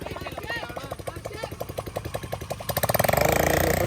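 A farm water pump motor thumps in a fast, regular rhythm close by, growing louder and harsher near the end, with a voice talking over it.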